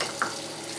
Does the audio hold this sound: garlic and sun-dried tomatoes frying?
yes